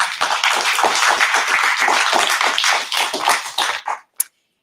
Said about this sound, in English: If we could have a round of applause for everybody.